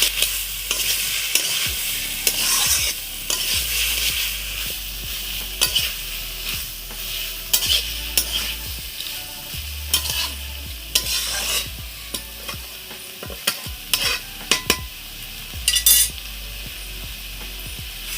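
Cumin and chili paste sizzles steadily in a pan, with repeated scraping and stirring strokes of a utensil against the metal throughout, close and fairly loud, no voices.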